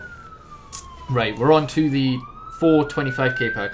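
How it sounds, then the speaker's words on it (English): An ambulance siren wails in the background as a faint, steady rising-and-falling tone running through the whole stretch, while a person talks over it in the foreground. "Sorry if you can hear the ambulance in the background."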